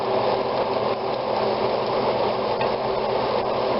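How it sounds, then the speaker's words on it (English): Steady, dense sizzling of garlic and butter frying in a hot pan, continuous and close, with no talking. "Listen to the sizzle."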